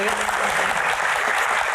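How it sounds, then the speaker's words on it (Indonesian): Audience applause at a talk-show Q&A event, a steady dense patter of clapping that fills the short moment, with a faint voice blended in underneath. "tepuk tangan buat Ferry"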